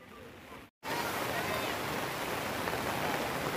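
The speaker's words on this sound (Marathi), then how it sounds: "पाऊस बघा जोराचाच आला. मगाशी पाऊस कमी होता आणि आता एकदम जोराचा आला आहे." Dense, steady rain pours down hard over a weekly market in Chiplun, a continuous hiss broken only by a brief moment of silence near the start.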